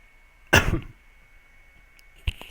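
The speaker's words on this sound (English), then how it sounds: "I should mute before I cough." A single sharp cough close to the microphone during online Dominion card game commentary, fading over about a third of a second, with a brief fainter noise two seconds later in an otherwise quiet room.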